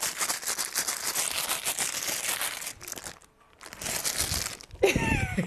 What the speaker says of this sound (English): I've been missing the rustling bag sound.